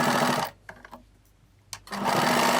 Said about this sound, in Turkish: Güzelce dikiyorum.